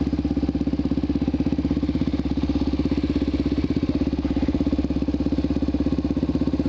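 A supermoto motorcycle idles steadily nearby in Austin, a continuous low, even engine pulse with no pauses for the whole stretch.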